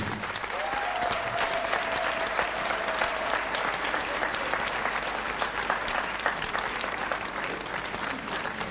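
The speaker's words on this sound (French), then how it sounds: "Monsieur Mabé, si vous pouvez applaudir pour lui." Steady, dense audience applause at a special concert evening in Orléans, sustained clapping from a crowd filling the room for several seconds, with a faint voice and tone briefly audible underneath.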